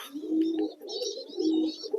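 Pigeons in a loft give soft, close throaty coos in two drawn-out rolling phrases, with no voices.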